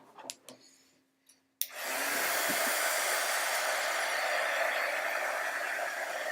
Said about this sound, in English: I'll throw a heat gun on it.